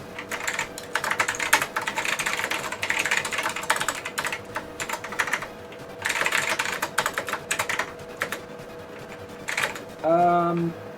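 Someone types a C program on a PC keyboard while running an IBM mainframe session under OS/2 Warp 3, with dense bursts of clacking keystrokes broken by short pauses and a brief rising electronic tone at the end.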